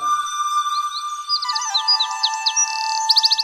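Forest birds at Thattekkad tropical bird sanctuary call in a series of bright, rapid chirps and whistled notes, sparse at first and then tumbling faster, with a quick trilling burst near the end.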